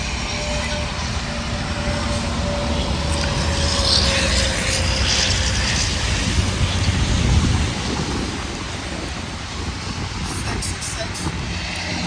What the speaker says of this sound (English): we're actually literally in a hailstorm